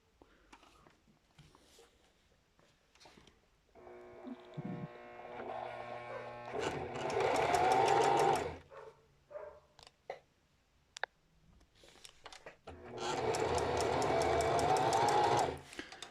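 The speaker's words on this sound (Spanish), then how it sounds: "Voy a ir ayudando a la máquina y a la tela para que se vayan a al mismo par" Sewing machine running a zigzag seam joining two fabric pieces for a bralette, in two sustained bursts of rapid stitching with quieter handling and clicks between.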